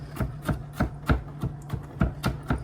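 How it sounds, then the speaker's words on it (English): A kitchen knife rocks and chops through garlic on a cutting board, about ten crisp, evenly spaced taps in a quick steady rhythm, close and clear with no talking. "Just chopping it up a little bit more than just the slices will give me"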